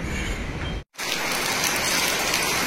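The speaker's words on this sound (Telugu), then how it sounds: "వర్షం అయితే ఇంకా జోరుగా పడుతుంది." Heavy rain pours down at a bus stand, a dense, loud hiss of drops striking surfaces that breaks off for an instant, then continues steadily.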